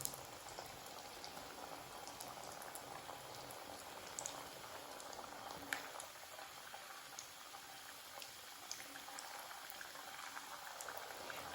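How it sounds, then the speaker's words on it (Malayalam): Moringa leaves dropped one by one into hot oil for crispy snacks, giving a steady, soft bubbling fry with faint crackles throughout, no voices. "എന്നിട്ട് ഓരോന്ന് ഇട്ട് കൊടുത്ത് നമുക്ക് ഇത് വറുത്ത് കോരാം."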